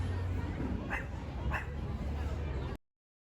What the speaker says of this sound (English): one of the dogs woke up and started barking